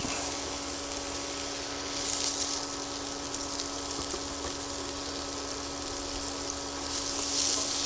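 Sausage sizzles in butter in a skillet, a steady, soft hiss of frying that holds throughout with slight swells and no voices.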